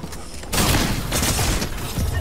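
Shotgun blasts and bursts of gunfire in a battle royale video game, loud dense crackling that erupts after a brief quieter moment and continues throughout.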